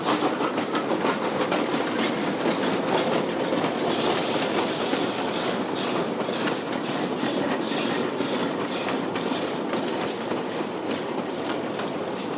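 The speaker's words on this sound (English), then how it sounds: "We're at Osier, where we see the train from Chama and Cumbres arriving." A steam train from Chama and Cumbres pulls into Osier station with a loud, continuous rumble and rhythmic clickety-clack of wheels on rails, heard alone without voices.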